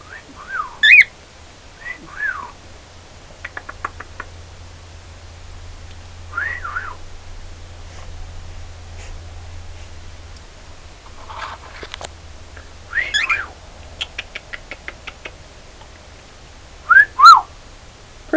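A pet bird gives a scattered run of sharp whistles and chirping calls, loud and close, with long quiet gaps between them.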